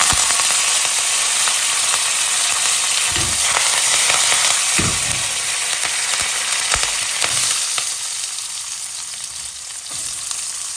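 Cumin, mustard seeds and fresh curry leaves sizzle loudly in hot oil, a dense steady crackle with a few stirring bumps; it eases slightly toward the end, with no voices.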